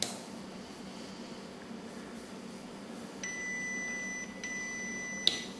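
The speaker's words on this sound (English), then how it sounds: "there we've got our 2 beeps" A collar device gives two short, thin electronic beeps, close by and fairly faint over a quiet background hiss.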